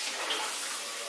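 Steady running water pours continuously during a sponge bath on a kitchen island, a constant close wash of splashing flow with no pauses.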